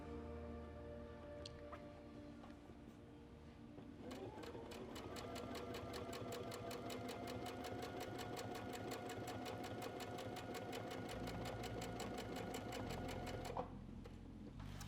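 A sewing machine stitches a king size quilt guided by a Westalee quilting ruler, starting with a few slow needle thumps, then settling into a steady, rapid mechanical rattle that runs for about ten seconds before stopping, close and even.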